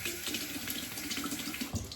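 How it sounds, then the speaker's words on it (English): Tap water runs steadily into a sink over a razor, heating it, a soft continuous splashing with faint clinks, fairly quiet and close. "Heating up that razor with a little hot water"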